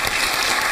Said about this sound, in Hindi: नेहा के लिए बहुत तालियां